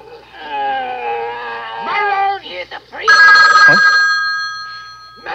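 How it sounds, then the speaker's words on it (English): A telephone rings loudly in a sudden jump-scare moment from the 1973 horror film The Exorcist, its bright electronic ring rising over eerie tonal, howl-like sounds in a tense scene. "the ringing phone comes out of nowhere and takes you completely off guard"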